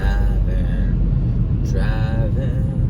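Low continuous road rumble inside a car cruising along a daily route home, with a voice speaking briefly over the engine noise.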